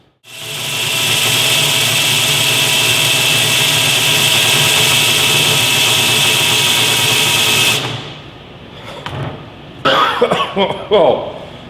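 A power drill runs loud and steady for about eight seconds with a high whining buzz, then stops abruptly, followed by a few scattered clunks and handling noises.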